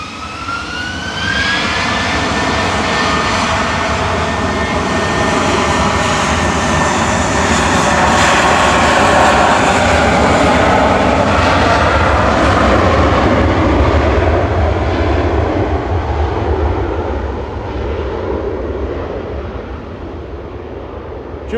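A Lufthansa jet departs for Munich from an airport, its engines building to a loud, steady roar with a rising whine early on, holding strong before slowly fading, with no talk.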